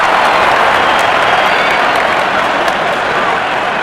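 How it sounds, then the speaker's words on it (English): Cricket crowd applauding a batsman reaching fifty during an Afghanistan versus Pakistan T20 international, a loud, steady roar of clapping with no break. "Wonderful 50 and the crowd applauds."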